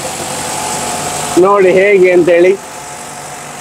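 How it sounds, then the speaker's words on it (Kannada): The engine of the Wonder Bus, an amphibious bus in Dubai, hums at a steady idle close by. A person speaks briefly partway through. "ಇದು ಎಂತ ಬಸ್ಸದ ಇಂಜಿನ್"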